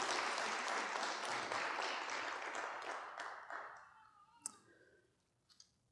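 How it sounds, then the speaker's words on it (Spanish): Church congregation applauding during a Spanish-language sermon, a dense, steady wash of clapping that thins and fades out over the last couple of seconds, leaving a few scattered claps. "Le da un aplauso al Señor."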